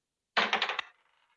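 A red twenty-sided convention die clatters across a tabletop in a quick burst of four or five close, bright rattling hits that fade into a short settling tail.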